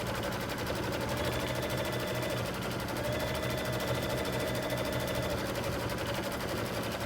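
An embroidery machine quilts a block with long jump stitches, a steady close-up whirring hum of rapid needle strokes continuing without a break throughout.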